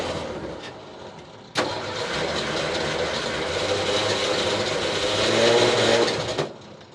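Forklift engine cranking and firing up after a new muffler is fitted, then running at a steady, slightly rising idle for several seconds before shutting off.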